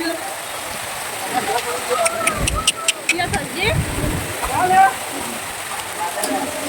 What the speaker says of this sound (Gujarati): જો અહીંયા જોરદાર વરસાદ ચાલુ થઈ ગયો છે.